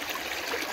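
Mountain spring water flowing in the Călimani Mountains of Moldova, a close, continuous bright rush of water heard alone for under a second.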